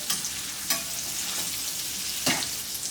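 Steak frying in butter in a pan gives a steady, close sizzle, broken by a few sharp clatters and splashes as butter is spooned over the meat; no one speaks.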